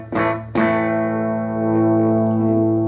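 Two strummed chords ring out on a distorted electric guitar through a cheap amp, guitar volume and tone on 10, amp controls on 5, sustaining loudly with a slight wavering buzz as they fade.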